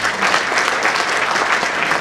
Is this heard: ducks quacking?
no